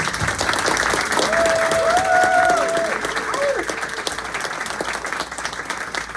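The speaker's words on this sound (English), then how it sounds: "I'm sure everybody can join me in just thanking you in a round of applause." After a book talk on shark science, audience applause builds into steady, close clapping, with a musical tone and some voices beneath, then thins into scattered claps.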